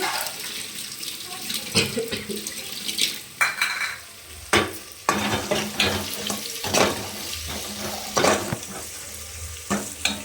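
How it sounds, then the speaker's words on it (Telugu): Onion and ginger garlic masala being stirred in a pan, with repeated scraping and clinking of a spoon against the metal at an irregular rhythm over a soft sizzle, close up. "బాగా కలుపుకోవాలి. మసాలా పచ్చి వాసన పోయేంత వరకు."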